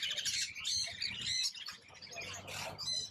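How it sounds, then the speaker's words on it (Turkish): Several birds chirp and squawk close by at an exotic animal market in Bangkok, Thailand, shrill calls overlapping in quick bursts over a low background hum. "Yine burada var birkaç kuş."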